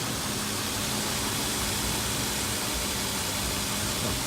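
A 2007 Nissan Xterra engine idles with a steady low rumble under broadband hiss, with no voices and no distinct knocks or taps.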